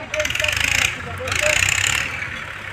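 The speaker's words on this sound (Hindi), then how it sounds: "इसको जैसे जैसे ट्रैक्टर से खींच रहे हैं वैसे वैसे हमारा है वो डिस्क इंसुलेटर ऊपर की ओर" A tractor engine runs steadily while it hauls a porcelain disc insulator upward during single-tension conductor stringing, a low mechanical rumble with a person talking over it throughout.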